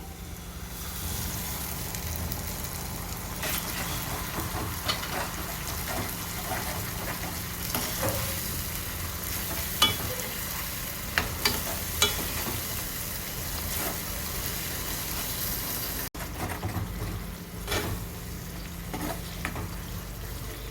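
Tomato and onion masala paste cooking in oil in a pan for a soya chunk curry, a constant dense sizzle with occasional stirring knocks, close up and unbroken, no speech.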